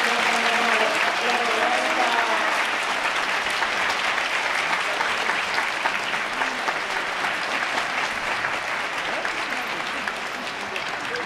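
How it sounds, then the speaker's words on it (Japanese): Sustained, dense applause from an audience honoring third-place winners at a kimono dressing contest festival, steady and loud throughout, with a faint voice speaking underneath at the start. "第3位入賞の皆さんの貢献をたたいて盛大な拍手をお送りください。"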